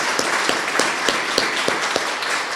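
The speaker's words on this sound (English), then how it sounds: "let's give her a round of applause" Audience applause at a city hall flag raising ceremony for a retiring human resources director, a steady wash of many hands clapping with a few sharper individual claps standing out, loud and continuous without talk.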